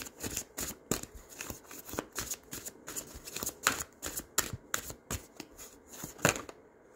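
Tarot cards being shuffled: a steady run of crisp, riffling card snaps and slaps, close and fairly loud, repeating in quick bursts for the whole stretch with no voices.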